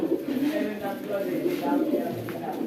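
Soft, throaty cooing of racing pigeons close by at a pigeon race tournament, several overlapping murmuring calls filling the short stretch.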